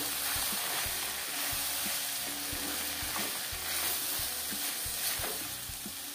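Eri silkworm pupae fry in a pan, giving a steady close sizzle with repeated soft stirring scrapes and clicks at a regular rhythm, and no voices over it.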